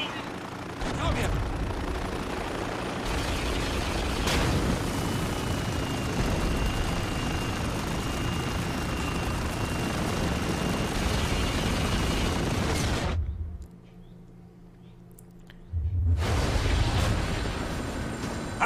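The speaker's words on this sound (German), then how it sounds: "Meine Güte, sind das hier viele Helikopter." Helicopters in the video game Spec Ops: The Line: a loud, continuous rotor and engine roar mixed with gunfire and explosions, with a brief drop to near silence before the battle noise resumes.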